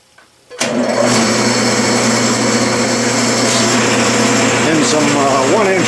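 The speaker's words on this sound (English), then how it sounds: "I believe I'll drill a center hole" A lathe drills a center hole into 1-inch aluminum stock in a home shop, a loud steady whirring drone that starts abruptly and holds constant, with faint squealing toward the end.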